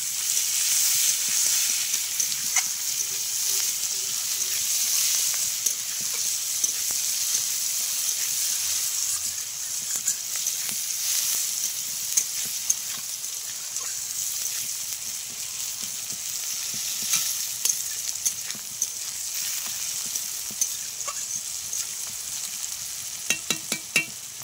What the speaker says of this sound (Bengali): ফোড়নটা হয়ে গেছে, আমি পেঁয়াজ কুচানোগুলো দিয়ে দিলাম